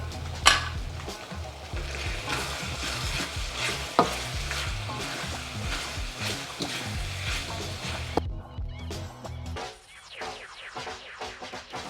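Chicken pastil frying and being stirred in a pan, with brown sugar just added; steady close sizzling with scraping stir strokes and utensil taps, then the sizzle briefly drops away before resuming more sparsely.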